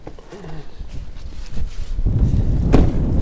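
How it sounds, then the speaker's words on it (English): Wind buffets an outdoor microphone on open acreage, a low rumbling gust noise that rises and thickens toward the end, with some faint rustling. "Definitely a little bit windy today."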